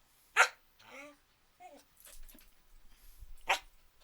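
Pet dog at home, a few sharp barks and whiny vocalizations spaced apart, close and moderately loud, with low growly sounds in between.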